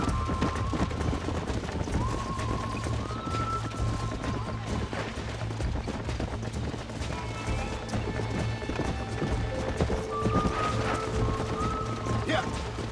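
Galloping horse hooves in the Red Dead Redemption video game while a rider chases and lassos a wild horse, a steady rapid clip-clop throughout, with a whinny and occasional talk over it.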